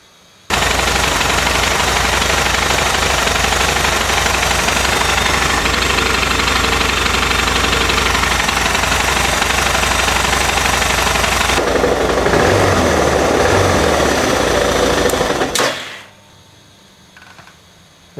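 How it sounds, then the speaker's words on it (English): A Suzuki DR650 motorcycle single-cylinder engine starts and idles loudly right after an oil change, a rapid, even thumping that runs for most of the stretch before cutting off abruptly. "So we'll start it up and let it idle for a minute or so"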